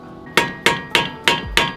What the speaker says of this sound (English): So I'm going to take a little flathead right here and just kind of, might have to hammer it a little bit.